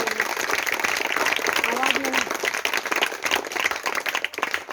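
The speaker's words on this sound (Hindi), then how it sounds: "आज बहुत बेहतर, जोरदार ताली रंजीत सर के लिए होना चाहिए" An audience at a DXN talk in India claps loudly in thanks for a speaker, a dense, close burst of applause with voices mixed in that begins to thin toward the end.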